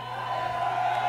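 Concert crowd at a heavy metal show at JAXX in Springfield, Virginia, roaring and cheering in a steady, sustained wash of massed voices that holds loud and even throughout.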